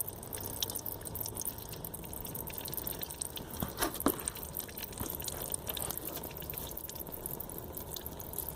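Old oil filter being removed from a 2003 Mazda MPV, with oil dripping and trickling into a drain pan: a steady, close wet patter and splashing that persists throughout, with a few sharper drips and knocks.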